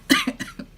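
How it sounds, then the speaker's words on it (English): A woman gives a short burst of coughs up close, about three or four quick hacking pulses in under a second, with no talking. "you hear me coughing now?"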